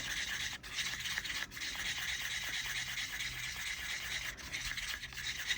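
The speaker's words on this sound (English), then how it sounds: "Get the lid back on that one and give that a good mix in." Resin being mixed inside a lidded container, a steady close rattling and scraping churn that continues throughout with a few brief dips.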